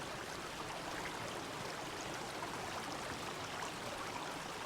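Water from a redirected waterfall in the video game Obduction rushes in a steady, even stream that holds without change, faint and distant, with no talking.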